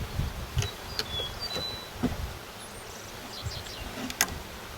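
A package of Old World honey bees being installed into a hive, with a steady low insect buzz throughout, plus light clicks and knocks from handling, close and moderately loud, with no speech.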